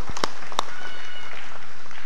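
An audience breaks into applause, with a few sharp, distinct claps at the start that blend into a dense, continuous patter of many hands.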